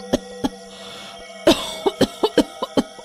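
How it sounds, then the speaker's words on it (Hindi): A woman sick with fever coughs repeatedly, a harsh isolated cough followed by a rapid run of several more in an uneven rhythm, close and loud. "पर खांसी ने तो सांसें ही उखाड़ दी।"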